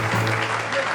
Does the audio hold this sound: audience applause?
yes